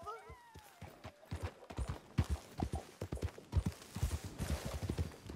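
Steady hoofbeats clip-clop at a trotting rhythm in Red Dead Redemption 2, with a horse whinny near the start and a voice talking over the hooves.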